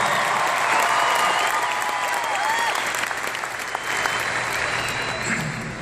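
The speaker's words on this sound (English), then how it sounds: "Give God an applause" A church congregation applauds in a dense, sustained wash of clapping that holds steady for several seconds, with a few voices faintly audible beneath it.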